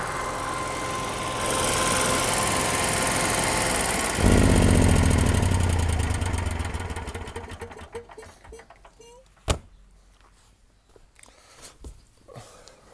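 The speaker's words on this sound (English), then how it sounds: "So we'll go over and kill the generator." Generator engine on a Citroen Relay mobile classroom runs with a steady, loud drone that cuts off partway through, leaving quieter clicks, a sharp knock and faint ambient sounds.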